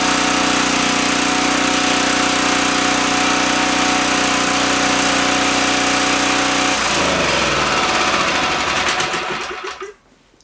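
A Champion 1500 generator engine runs with a steady, loud buzzing drone indoors in a shop, its pitch sagging and wavering before it sputters and cuts out near the end.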